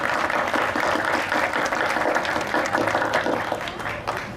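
A crowd at the Trujillo book fair gives warm, sustained applause for a cultural official, a steady mass of clapping that stays fairly loud throughout and eases slightly toward the end.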